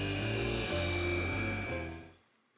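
A power cutting tool slices metal firewall filler pieces for a 1958 Ford F100, a close, loud whining buzz with shifting pitch that winds down and stops after about two seconds.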